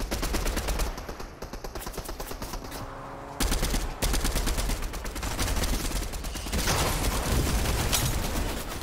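Rapid automatic gunfire in the video game Fortnite, dense bursts of shots in quick succession, loud and continuous with a short pause before firing resumes, with no talk over it.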